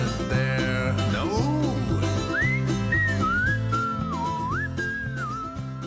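Lazy, wandering whistled melody in the style of 1940s popular songs, a clear close whistle gliding between sustained notes over a steady, rhythmic backing accompaniment throughout.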